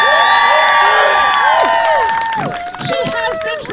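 A large outdoor crowd at the 2021 Maine Renaissance Faire cheers and whoops loudly for a fighter named Finn, with many overlapping high shouts that thin into scattered yells.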